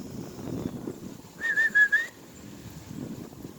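A person tries to whistle, producing a brief, breathy, wavering whistle of several short pulses in the middle, fairly faint against quiet outdoor background noise.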